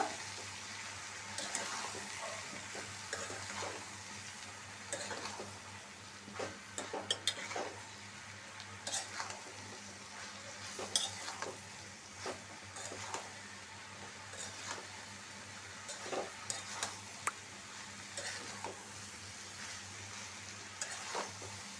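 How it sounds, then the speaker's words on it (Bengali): Potatoes being stirred and mixed with vegetables in a sizzling pan, with repeated scraping and clattering of a spoon against the pan over a continuous low fry, some strokes louder than others, no talking. "সবজিটার সাথে আলুটা ভালো করে মিশিয়ে নিব"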